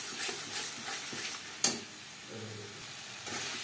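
Ground spice paste for a ridge gourd and coconut dish is stir-fried in a pan, giving a soft, quiet sizzle with scraping stirs and one sharp clink of a utensil.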